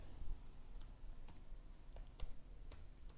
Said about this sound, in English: Let us do something by starting typing in this particular cell.